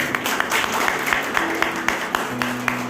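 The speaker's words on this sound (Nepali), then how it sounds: "म ताली पनि बजेको सुन्न चाहन्छु यति बेला।" Congregation applause at a Christmas church service in Mangan, North Sikkim: a loud, even patter of many hands with steady rhythmic claps over sustained musical tones.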